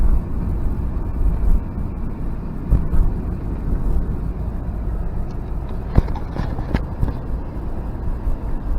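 A 1990 Nissan Fairlady Z Twin Turbo, still warming up, drives along with a steady low engine drone and road rumble, punctuated by a few sharp clicks and knocks inside the cabin.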